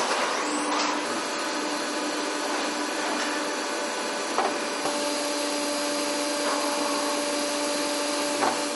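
A micromechanics machine machining small parts clamped in a collet, giving a steady loud broadband whirring hiss with a faint tonal hum and occasional light clicks, continuous throughout without talking.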